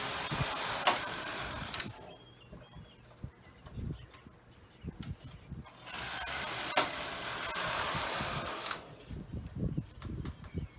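A knitting machine carriage is pushed back and forth across the needle bed to knit rows, making rattling, whirring passes that alternate with quieter pauses full of small clicks and knocks.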